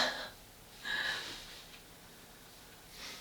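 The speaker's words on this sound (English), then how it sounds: "if you hear me sniffling around, I'm basically having a cold" A few short, breathy sniffles through the nose from someone with a cold, close and quiet, separated by pauses.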